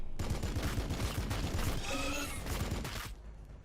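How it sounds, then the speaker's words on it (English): Rapid gunfire from the strategy game Warhammer 40,000: Battlesector, a dense rattling fusillade of overlapping shots that holds steady and then fades out near the end. "we'll shoot at these Termagants"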